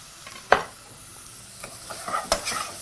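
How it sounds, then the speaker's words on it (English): Onion sautéing over low heat in a pan gives a faint hiss broken by a few clear scrapes and clinks of a utensil stirring, sparse and close. "Proceed to saute that very briefly in your pan."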